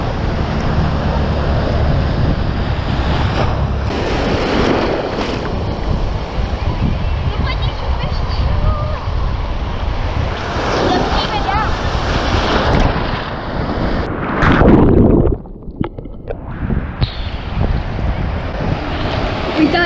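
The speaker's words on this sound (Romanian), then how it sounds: "Uitați-vă ce valuri mari!" Loud surf and big crashing sea waves with strong wind buffeting the microphone, and people talking over the roar.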